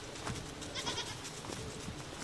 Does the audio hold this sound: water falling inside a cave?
no